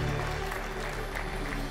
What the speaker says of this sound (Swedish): En stor applåd för hela gänget.